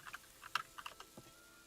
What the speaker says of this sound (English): I'm hearing typing, someone's hacking